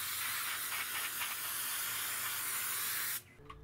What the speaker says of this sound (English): I'm going to use brake cleaner on this as well